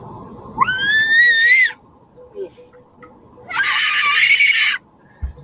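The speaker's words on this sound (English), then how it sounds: "You are one loud scream." Two loud, close screams: a rising shrill wail, then after a pause a harsher, noisier burst. Quiet background sounds fill the gap.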